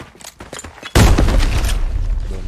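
Faint scattered game sounds in Arena Breakout give way to a sudden loud grenade blast, followed by a rumbling, crackling decay as the explosion rolls on.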